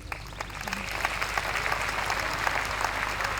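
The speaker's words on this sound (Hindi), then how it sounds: "एक बार तालियों से स्वागत करें सबका" An audience at a school alumni meet applauds to welcome the guests, steady dense clapping throughout that fills the room and builds slightly toward the end, with no voices over it.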